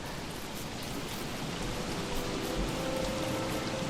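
Steady rain hiss from the survival video game Don't Starve, a dense even wash of falling water that holds at a constant level with no talking.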